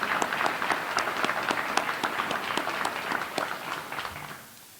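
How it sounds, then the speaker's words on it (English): Audience applause at a retirement ceremony for a deputy chief, a dense, steady patter of many hands clapping close by for several seconds before it fades out at the end. "Let's all give them a round of applause."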